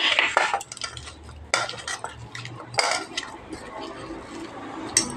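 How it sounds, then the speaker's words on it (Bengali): Potatoes being mashed with shredded cabbage in a bowl for cabbage pakoras, a utensil scraping and clinking against the bowl in uneven strokes, close and fairly quiet. "এবার এখানে আলুগুলো দিয়ে ম্যাশ করে নেব।"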